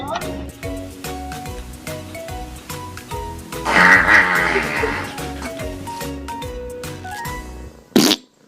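A fart sound effect played back near the middle, a loud raspy burst of a few seconds over a steady rhythmic background beat, followed by a short sharp hit near the end.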